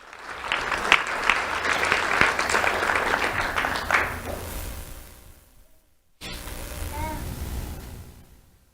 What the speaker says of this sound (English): Let's have a round of applause for Amore Ramirez.